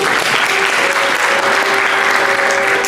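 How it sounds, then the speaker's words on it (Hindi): A crowd at a devotional Bhagwat Katha gathering claps loudly and continuously, a dense close wash of applause with no break. "ताली बजाओ ना जोर से।"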